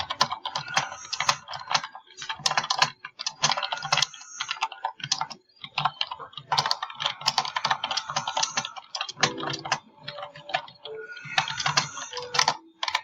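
Computer keyboard keys clatter in quick, uneven bursts with short pauses between runs while someone builds in Minecraft with friends; the typing is close and clear.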